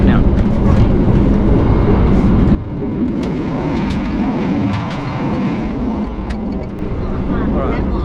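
An economy class train runs from Jakarta to Yogyakarta, its steady rumble and rattle filling the carriage throughout. The sound drops and changes abruptly partway through, as if passing between carriages, and someone speaks over it.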